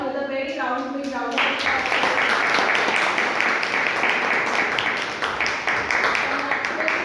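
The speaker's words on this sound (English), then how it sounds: "We welcome you all with a very big round of applause" A Toastmasters club meeting audience breaks into a big round of applause for the new presiding Toastmaster, dense continuous clapping that starts after a moment of speech and holds steady to the end.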